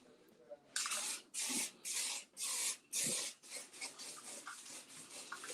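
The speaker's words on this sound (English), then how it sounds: "So I'm just gonna spray one time over the entire thing." Contact adhesive is sprayed over a foam cosplay shape in about five short, forceful hissing bursts, followed by quieter rustling and rubbing of the foam, close to the microphone.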